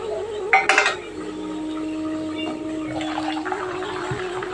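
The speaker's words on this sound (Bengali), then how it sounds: "মাংস কষাইতেছি।" Meat being browned and stirred in a pot produces a few clattering metal clinks near the start, then a low steady cooking hiss with light scraping, close and moderately loud, with no talk.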